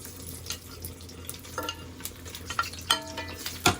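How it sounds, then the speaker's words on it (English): Sausages frying in hot oil in a pan while cooking a herby mac and cheese, a soft continuous sizzle under occasional sharp clinks and scrapes of a utensil against the pan, growing busier toward the end. "I'm just going to put in our sausages to fry a bit"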